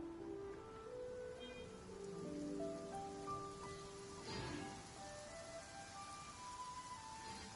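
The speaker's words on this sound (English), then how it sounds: "Quite a downpour." Heavy rain pours down in the video game Genshin Impact, a steady, soft hiss of downpour under faint melodic game music, with a brief low rumble midway.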